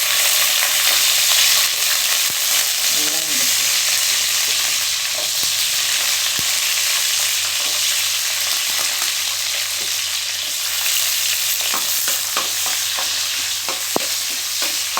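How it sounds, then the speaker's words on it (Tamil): Dried red chillies and garlic fry in a pan for pirandai chutney, giving a loud, continuous sizzle throughout with occasional stirring scrapes and no voices. "இப்போ காஞ்ச மிளகா போட்டுக்கலாம் பூண்டு போட்டுக்கலாம்"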